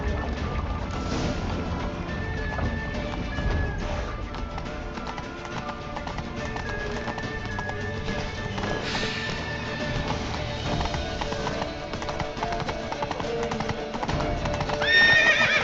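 Horses gallop with steady clip-clop hoofbeats and neigh repeatedly during a frantic chase in The Witcher 3, all of it dense, loud and continuous, with game music and effects mixed underneath.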